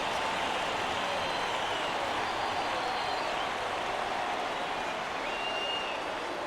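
A baseball stadium crowd rises and cheers on a full 3-2 count, a dense, steady roar of many voices that fills the whole stretch without letup.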